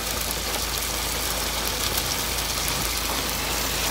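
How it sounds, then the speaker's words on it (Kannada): Heavy rain drumming steadily on a car with the doors shut, a dense continuous hiss heard from inside at even loudness, with a low engine-like rumble underneath and no talk. "ಮಳೆ ಫುಲ್ಲು ಮಳೆ."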